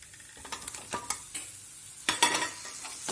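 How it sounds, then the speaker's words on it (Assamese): Burmese coriander stir-fried in a pan, with scraping stirs and bursts of sizzling close by, a louder flurry of stirring near the end; no talk. "এয়া বৰ্মা ধনিয়াখিনি দি ভাজি আছোঁ"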